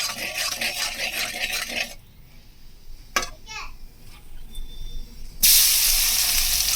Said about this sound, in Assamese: মই ভাজিতে দি দিছোঁ তেলতে।